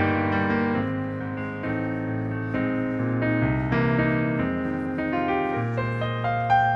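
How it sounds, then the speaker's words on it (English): Yamaha CFX 9-foot concert grand piano sound played as a flowing chordal passage, full and resonant with sustained bass and overlapping notes, close and alone without talk. "is the Yamaha CFX 9-foot concert grand."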